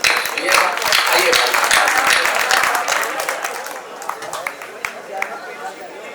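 Audience applauding a humorous poet at a Hindi poetry event: dense, loud applause for several seconds that thins into scattered claps, with voices over it.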